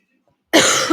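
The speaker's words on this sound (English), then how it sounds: "Got a little bit of a cough today" A single sharp cough bursts out after a moment of silence, loud and close, rough and breathy through its short length.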